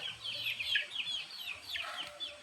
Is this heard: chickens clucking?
yes